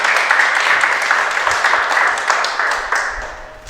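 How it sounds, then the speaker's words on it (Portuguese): A church congregation applauding, dense sustained clapping from many hands filling the room for several seconds and tapering slightly toward the end. "Vocês podem aplaudir a Jesus por isso,"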